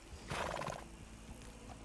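A horse in the Red Dead Redemption 2 video game gives a loud, clear neigh, with hoofbeats clopping softly before and after it.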